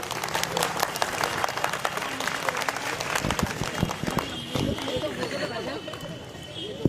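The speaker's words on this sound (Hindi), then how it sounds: "सैफ पठान के लिए एक जोरदार तालियां।" A crowd at an election victory rally applauds and cheers, a dense burst of clapping and chatter that gradually thins out, with voices mixed in.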